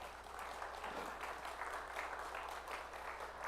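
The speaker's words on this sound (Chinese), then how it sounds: "我们拍手来欢迎他们" A church congregation claps steadily at a Sunday service to welcome new Sunday school teachers, dense sustained applause filling the room at moderate volume throughout.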